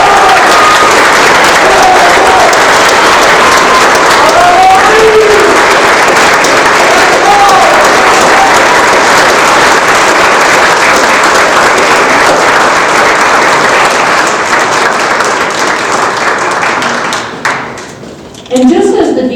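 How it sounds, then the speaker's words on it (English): A crowd at a student leadership awards ceremony applauds the Student Leader of the Year, loud sustained clapping with some cheering that carries on for most of the stretch before dropping away briefly near the end. "Please give a big round of applause for our Student Leader of the Year"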